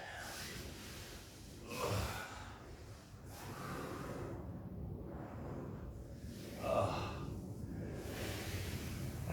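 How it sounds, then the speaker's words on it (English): Slow, deep breaths during a self-care stretching routine drawn from contact improvisation and myofascial release, a few audible inhales and exhales spaced several seconds apart, soft and close with low background noise. "As I do this, I'm breathing as deeply as I can."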